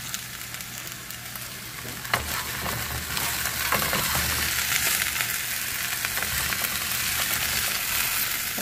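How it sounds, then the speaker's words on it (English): Seasoned potatoes fry in a pan with a steady, dense sizzle and crackle, close and loud throughout, with a brief clink of a utensil near the start. "Give it a little toss and then let them cook."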